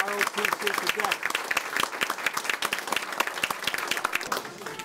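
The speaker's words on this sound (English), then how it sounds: "We have a large round of applause for the" An indoor convention audience gives a WPI ROTC cadet a round of applause, steady clapping from a crowd that holds at moderate volume for several seconds.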